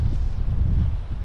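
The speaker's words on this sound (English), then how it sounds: "It's a little windy today" Steady wind buffets the microphone at a soundside beach on the Outer Banks, a low, continuous roar with no break and no voices.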